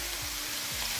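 Ginger garlic paste sizzles in a pan while Indian-style chicken macaroni pasta is cooked, a steady dense frying hiss with a few soft stirring scrapes, close and continuous with no voices.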